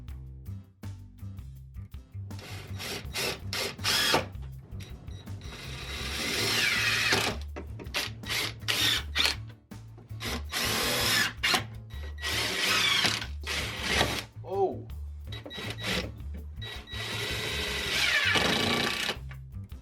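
A power drill drives fasteners to attach metal brackets to the tops of the legs of a wooden frame, in repeated short whirring bursts with brief pauses, close and fairly loud.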